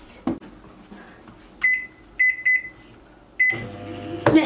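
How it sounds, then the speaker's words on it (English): Microwave oven cooking peanut mochi, a low hum that stops and is followed by several short electronic beeps, then a door clunk near the end, heard close and alone. "Here we go into the microwave for how long?"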